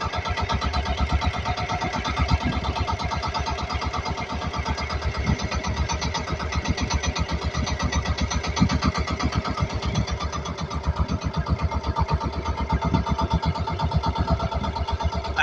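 A boat engine chugs steadily at idle on a crabbing trip, a rapid, even rhythmic putter running throughout with no talking.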